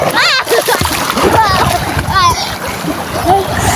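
Children splashing as they swim a race in the sea at a barangay fiesta, busy water splatter under excited kids' voices and shouting throughout.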